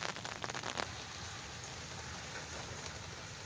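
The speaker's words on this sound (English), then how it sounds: "get too completely soaked in this rain" Rain falls steadily around an abandoned, overgrown picnic shelter, a continuous dense hiss of drops with a few louder patters near the start and no one speaking.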